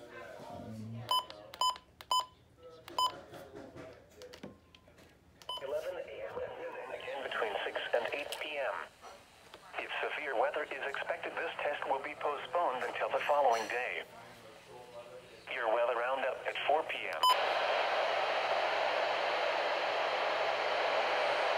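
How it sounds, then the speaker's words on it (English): A WR120 radio sweeps through distant stations, giving bursts of static, hiss and faint warbling broadcast tones, with beeps and clicks at the start and a steady loud wash of noise near the end. "we're gonna DX on all my radios"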